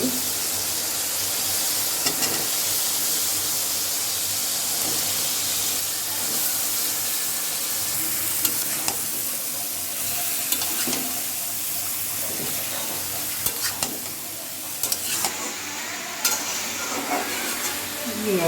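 Spices with chili powder sautéed and stirred in a pan for a home-style tilapia curry with beans, radish, potato and tomato, giving a steady close sizzle broken by repeated scraping stir strokes, with no talking.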